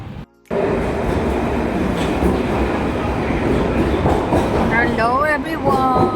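A London Underground Piccadilly line train rumbles loudly and steadily with clattering wheels and rising squeals near the end, close and continuous after a brief quiet start.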